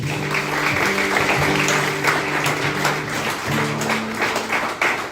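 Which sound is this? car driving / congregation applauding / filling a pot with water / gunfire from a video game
congregation applauding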